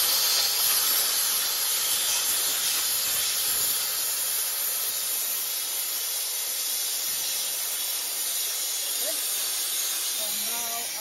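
Liquid nitrogen flowing through a transfer line into a CryoFab dewar gives a steady, loud broadband hiss that holds unbroken for the whole stretch, with no talk over it.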